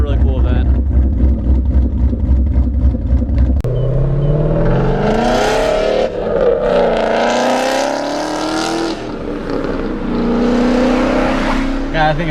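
A street car with a recently fitted aftermarket exhaust revs hard and loud at close range. Deep rumbling bursts climb and fall in pitch as the throttle is blipped, and voices can be heard talking over the engine.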